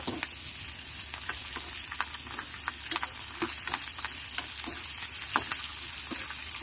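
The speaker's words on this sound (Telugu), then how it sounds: "పచ్చిమిర్చి కూడా వేసుకున్నాం కదా, మంచిగా ఫ్రై అవ్వాలి పచ్చిమిర్చి." Green chillies crackle and sizzle in hot oil in a pan while tempering for curd rice. Sharp pops come in an irregular rhythm over a constant frying hiss, close and fairly quiet, with no speech.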